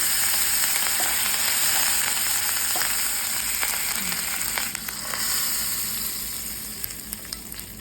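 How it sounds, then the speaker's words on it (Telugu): Hot oil sizzles loudly and continuously as a tempering hits tamarind soup made with sesame, the crackle slowly easing toward the end. "ఇప్పుడు స్టవ్ ఆఫ్ చేసుకొని తాలింపుని పచ్చిపులుసులోకి యాడ్ చేసుకోండి"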